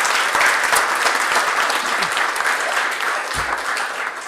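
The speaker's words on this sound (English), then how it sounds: "Let's give her a big round of applause" Steady, dense applause from an audience at a school board meeting honoring a student's softball scholarship, sustained clapping at even loudness throughout with no talk.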